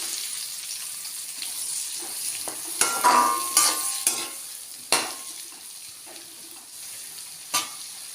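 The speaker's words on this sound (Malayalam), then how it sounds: "ഇനി കുറച്ച് എണ്ണ എടുക്കണം. അതിലേക്ക് ഒരു 3 വലിയ സവോള കട്ട് ചെയ്തത്," Large sliced onions sizzle in hot oil while being stirred, a steady soft frying hiss broken by several sharp scraping clinks of a spoon against the pan, heard close with no talking.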